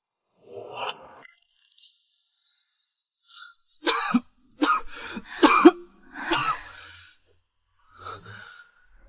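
Several harsh coughs in short bursts, one isolated cough early and a cluster of three or four in the middle, with a faint final one; no talking.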